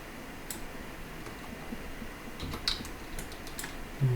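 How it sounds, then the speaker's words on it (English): Computer keyboard keys pressed during 3D modelling work, a few soft scattered clicks and taps, faint and close, with no talking. "Number 1 on the keyboard."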